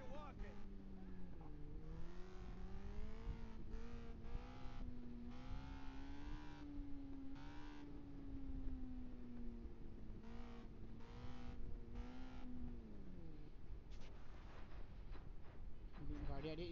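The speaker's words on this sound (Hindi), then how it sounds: "गाड़ी आ रही है, इसको लेंगे इसको लेंगे।" A car engine in the video game Gangstar Vegas drones and revs, rising and falling in pitch as it approaches, then fades into a rougher rumble; quiet and steady throughout, with someone talking over it.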